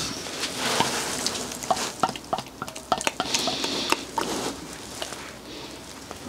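A 1979 BMW engine, rebuilt after sitting for 30 years, has its oil pump pulley turned by hand, giving a close series of irregular metallic clicks, ticks and light clatter with no voices.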